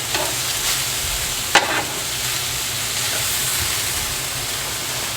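Onions and chopped cheese fold together on a hot griddle for a Harlem chopped cheese sandwich, giving a steady, close, hissing sizzle throughout with one sharp scrape or clank of a spatula partway through.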